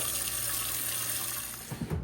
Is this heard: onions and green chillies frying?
no